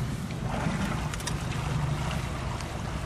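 Small boat outboard engine running in shallow Arctic water off Kvitøya island, a steady low motor drone mixed with wind buffeting and water wash, continuous and close with no talking.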